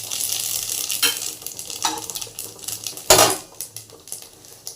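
Nigella seeds crackling in hot oil for a fish curry tempering, a close sizzle broken by sharp clinks and scrapes of a metal spoon against the pan, alone without voices.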